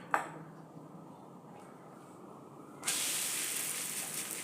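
A potato and wheat paratha roasts on a hot pan. After a faint clink and a quiet stretch, a sudden soft hiss rises and holds steadily, fairly faint, with no voices.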